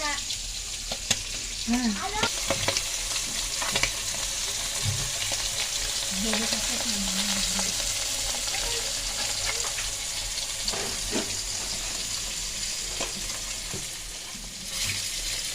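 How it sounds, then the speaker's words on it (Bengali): Pangas fish frying in hot oil gives a steady, close broadband sizzle throughout, with occasional stirring scrapes and a brief spoken word near the start. "মাছটা ভাজা হয়ে গেছে সুন্দর করে লাল করে"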